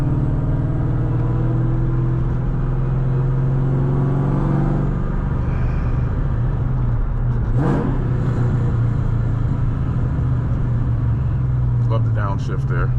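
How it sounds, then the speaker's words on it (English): Engine of a 500 HP 2003 Mustang Cobra heard from the cabin while driving through a tunnel, a loud steady rumble that shifts pitch partway through as it drops a gear, with no voices. "Love the downshift there."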